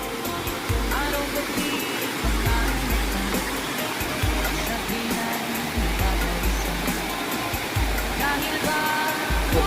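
Steady broadband rush of a clear river flowing near Tagbibinta Falls, Davao de Oro, fills the scene, a constant close wash with some low rumbling thumps underneath.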